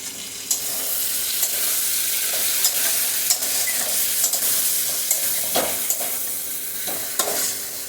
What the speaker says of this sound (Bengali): এখন আমি কচুটার আলুটা এই মশলাটার সাথে আরও 4-5 মিনিটের মতো কষিয়ে নেব